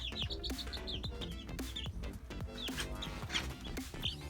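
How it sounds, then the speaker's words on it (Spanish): Newly hatched partridge chicks from a homemade incubator cheep in a busy chorus of rapid, high-pitched peeps, close by. Other hatchling chirps and soft clucking blend in, and nobody speaks. "Aquí tenemos pollitos de perdices."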